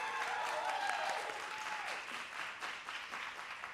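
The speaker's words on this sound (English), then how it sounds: "Can we get another applause for them, please?" Audience applause at a gala, a full room clapping steadily and loudly for the whole stretch, fading slightly toward the end with no voices over it.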